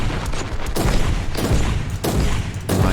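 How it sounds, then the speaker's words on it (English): Gunshots from the Warhammer 40,000: Inquisitor video game fire in quick succession, several sharp cracks with booming tails, loud and up front. "let's give him another little headshot to bring him down"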